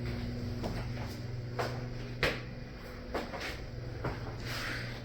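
A kitchen cabinet door in an old house under refurbishment is opened and shut several times, each move giving a short, fairly soft knock or clack spaced across the quiet room.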